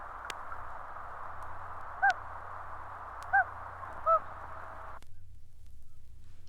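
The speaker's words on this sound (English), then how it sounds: "And finally, the hoot." A common loon gives a hoot call: three short, soft, rising hoots spaced about a second apart over steady low background hum, fairly close and alone with no voices.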